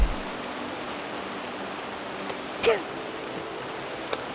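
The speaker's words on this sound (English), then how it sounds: "it's raining or about to rain, or I don't know, but it's raining" Steady rain falls outdoors at a wedding venue as a soft, even hiss of drops, with a single louder splash or knock partway through and no clear voices.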